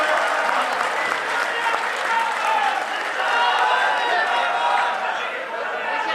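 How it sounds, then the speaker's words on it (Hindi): Sustained, dense audience applause welcoming a guest at a BJP commemorative event, steady clapping from a large crowd throughout with some chatter mixed in. "जोरदार तालियों से आपका स्वागत।"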